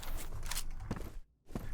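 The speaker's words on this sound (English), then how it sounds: "These footstep sounds are gonna be..." Footsteps in the shooter game F.E.A.R. come as flat, close thuds in a steady walking rhythm, briefly pausing before resuming, with no talk over them.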